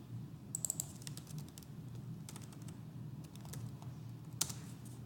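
Someone types notes on a computer keyboard, a scattered run of light clicking keystrokes in short bursts over a faint steady hum, close and quiet with no talk.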